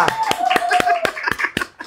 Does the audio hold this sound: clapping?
yes